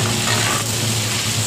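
Fried rice with eggs and green onions sizzles loudly in a hot pan, a dense, steady crackling hiss throughout.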